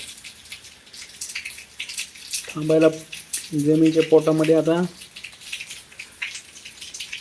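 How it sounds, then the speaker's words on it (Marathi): Steady, continuous rain falls in Beed as a soft, even background hiss throughout, while someone talks briefly over it in the middle. "त्यानंतर पुन्हा संततधार पाऊस सुरूच आहे"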